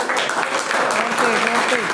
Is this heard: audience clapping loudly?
yes